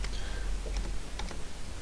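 Typing on a computer keyboard while entering a home page address, a short run of soft, close key clicks with no voices.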